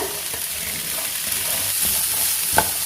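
Steady sizzling of chickpeas frying in a pan with spices, with soft scraping and stirring sounds and one sharper clack near the end.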